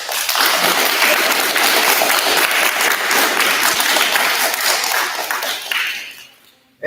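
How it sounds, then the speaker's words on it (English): Sustained loud applause from families at a short school ceremony for students moving up to 6th grade, steady clapping throughout that fades near the end before a sharp final sound. "let's give your families a round of applause"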